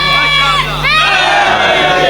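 A crowd at a Muharram majlis shouts a short religious slogan in unison, loud and close, the massed voices swelling and falling within about two seconds.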